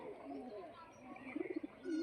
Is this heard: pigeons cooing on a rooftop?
yes